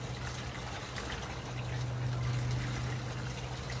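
A muriatic acid and water solution is poured into a 1963 VW Beetle gas tank, giving a soft, steady liquid trickle and gurgle, faint and close, over a low hum with no talking.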